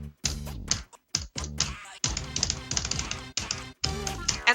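Rapid bursts of clicking from beatmania arcade controller buttons, sharp taps in irregular clusters with brief gaps, close and fairly loud, with faint game music in the background.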